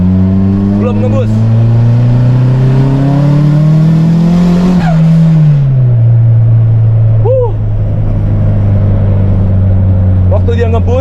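A Nissan Silvia S13 200SX pulls hard from second gear, its engine note rising loud and close, then dipping at a shift before droning on steadily, with a brief tyre squeal and voices in the car.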